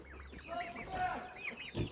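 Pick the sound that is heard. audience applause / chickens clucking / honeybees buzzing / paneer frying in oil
chickens clucking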